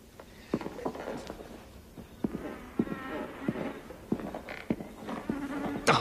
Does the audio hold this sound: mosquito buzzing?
yes